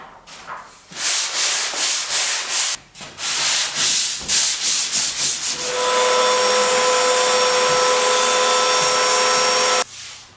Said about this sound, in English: I'm going to lightly sand with the grain to try to soften this paint up